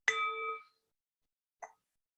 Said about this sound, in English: Every time you hear this bell throughout the call, I want you to remember to breathe